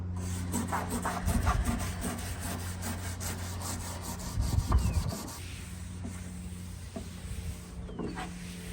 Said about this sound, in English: I'm going to have to get my Carbide scraper out for this one